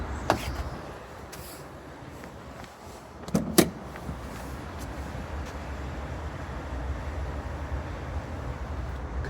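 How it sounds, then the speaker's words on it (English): The electric folding door mirrors on an Audi RS3 operate with a brief, quiet motor whir and a couple of soft clicks midway, against a low, still background. "Control there for electric folding door mirrors."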